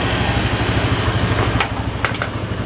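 Honda Vario Techno scooter engine running at idle, a steady buzzing, pulsing drone close by, with a few faint clicks near the end.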